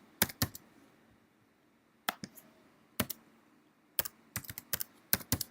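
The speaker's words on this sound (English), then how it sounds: "you just start typing it in" Typing on a computer keyboard during a screencast, short bursts of sharp, close key clicks separated by pauses, no talking.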